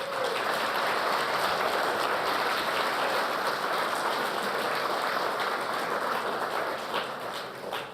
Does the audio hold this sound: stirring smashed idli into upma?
no